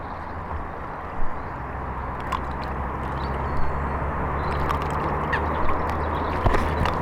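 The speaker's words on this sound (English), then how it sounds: "I thought I'd try and feed the ducks off." Ducks quack in a busy, continuous chatter while being fed at Southwick Park Lake, with a few louder calls popping out over a low steady rumble of wind or water.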